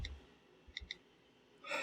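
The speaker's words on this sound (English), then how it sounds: "The keyboard is nice and big, and you could really go ahead and start typing on this" Soft taps on an iPad 4's glass on-screen keyboard, two quick clicks close together, faint and near, followed by a brief burst of brighter noise at the end.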